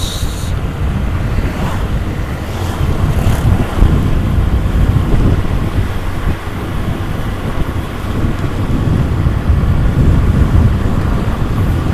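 Heavy wind noise roars against the microphone of a Brica Bpro 5 Alpha Edition Mark IIIS action camera mounted on a moving motorcycle. The rumble is loud, constant and gusty throughout, and no one speaks.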